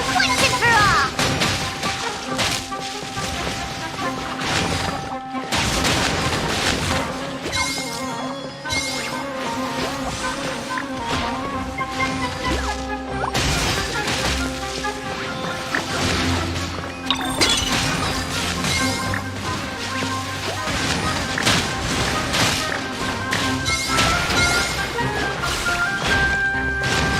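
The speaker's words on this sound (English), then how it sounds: "use Super Splash to the face and defeat Hania once and for all" Super Splash attack impacts from the Genshin Impact video game, heavy crashing hits layered into a dense, continuous wash of game music and effects that stays loud throughout.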